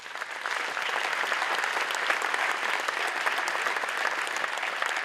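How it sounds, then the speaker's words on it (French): An audience at a French mayor's New Year address bursts into sustained applause, many hands clapping densely and evenly at a fairly loud, close level for about five seconds, with no voices over it. "Il faut les applaudir."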